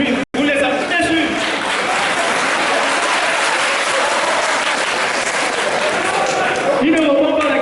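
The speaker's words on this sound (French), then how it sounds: "vous applaudissez quand même" An audience at a Christian–Muslim debate applauds in a dense, sustained wash of clapping that runs nearly unbroken for several seconds, loud and close, with voices mixed in beneath it.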